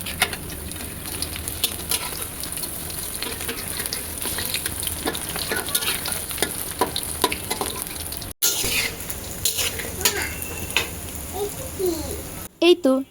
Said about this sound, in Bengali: এবার আমি অল্প আঁচে পাতাগুলোকে সুন্দর করে ভেজে